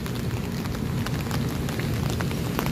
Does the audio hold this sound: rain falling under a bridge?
yes